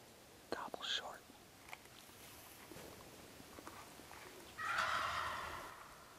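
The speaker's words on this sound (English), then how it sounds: "Gobbles short." A wild turkey gobbling during a spring hunt near Spokane, Washington, heard as a short, loud burst at a distance near the end, with earlier faint rustles, footsteps and hushed whispering nearby.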